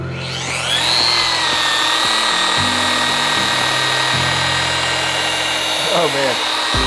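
A machine polisher works over the clear coat of a 2022 GMC Sierra Denali truck, whining steadily and close, with the pitch rising as it spins up and shifting as it moves over the paint.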